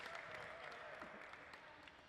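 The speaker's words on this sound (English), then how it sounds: "Let's give them a round of applause." Audience applause for glassblowers during a visiting artist demonstration at the Museum of Glass, a soft, distant, steady patter of clapping over a low hum of the hot shop.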